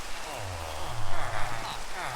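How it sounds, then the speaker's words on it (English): Steady hiss of rain falling in the Minecraft video game, a constant broadband wash with a low voice murmuring faintly beneath it. "Oh, and it's raining."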